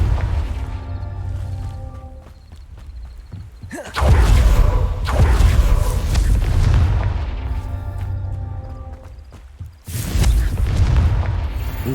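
Confringo fire-spell blasts in the video game Hogwarts Legacy, two loud booming explosions that rumble low and decay, separated by a quieter stretch of game ambience and chiming effects.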